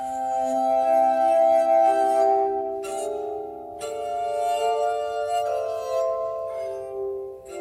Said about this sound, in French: Le son de l'harmonica se fait très vite entendre au-delà du Royaume-Uni.